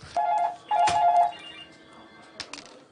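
Office telephone ringing at an auctioneers, two clear electronic ring bursts close by, followed by quieter background clatter.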